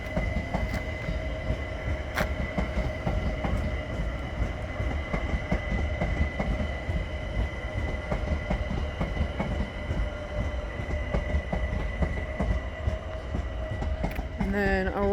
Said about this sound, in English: And leaving is our overground service to Stratford.